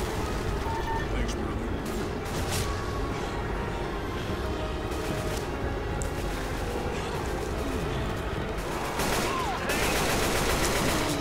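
Rapid gunfire in the Left 4 Dead 2 video game, dense bursts of shots running continuously over steady game noise, with voices talking throughout.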